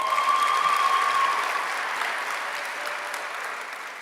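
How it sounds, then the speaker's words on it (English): A dense wash of audience applause at a university athletics awards ceremony, loud and even at first and then gradually fading. "One more round of applause."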